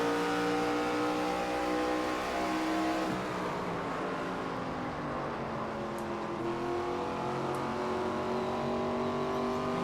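Continuous roar of NASCAR 25 race cars in a video game pack, several engine tones whining and bending in pitch as cars jostle for position, steady and loud throughout with no voices.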